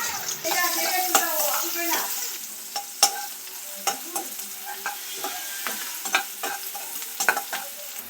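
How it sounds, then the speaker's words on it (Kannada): Onions sizzle and crackle in hot oil while a spoon stirs and scrapes the pan in intermittent clinks, close and moderately loud. "ಒಂದು ಈರುಳ್ಳಿನ ನಾನು ಕಟ್ ಮಾಡಿದ್ದೆ ಅದೀಗ ಎಣ್ಣೆಗೆ ಹಾಕ್ತಾ ಇದ್ದೀನಿ"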